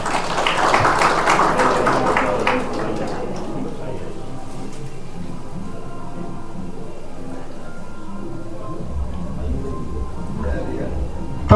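A crowd at a political welcome ceremony claps loudly and densely for the first few seconds, then the applause fades into a quieter murmur of background noise.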